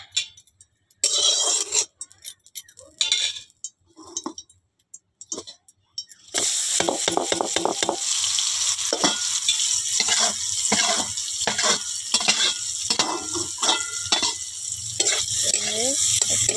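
Vegetables coated in ground cumin, ginger, garlic, mustard, green chilli, turmeric and salt fry in a pan. Scattered handling noises come first, then a loud, continuous sizzle with stirring sets in and carries on to the end.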